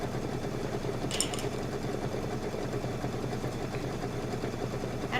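A Kimberbell sit-and-sew project being stitched on a sewing machine, its steady motor whir and rapid needle clatter running continuously at close range with a brief higher rattle partway through; nobody speaks.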